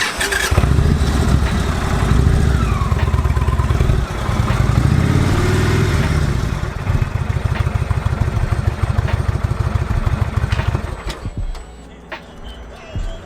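An Indian Chieftain motorcycle engine runs nearby at a steady idle with a throbbing low rumble, easing off toward the end.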